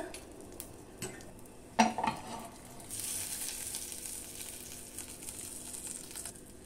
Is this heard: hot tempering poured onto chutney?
yes